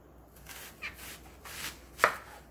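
A knife chops vegetables on a cutting board for a pork kimchi stew, giving a few sparse, separate strikes with one sharper cut near the end, close and fairly quiet, with no talking.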